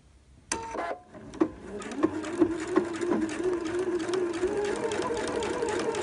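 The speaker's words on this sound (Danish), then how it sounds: "Og så sådan cirka en 3-4 cm før mit punkt her, syr jeg cirka 2 cm fra min kant." A sewing machine stitches a zipper seam after a few sharp clicks and starts, settling into a steady, close whirring hum of rapid stitching.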